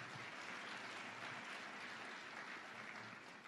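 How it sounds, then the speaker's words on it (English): A crowd claps steadily and loudly, a dense wash of applause that holds evenly for a few seconds without any voices over it. "Give her a big round of applause."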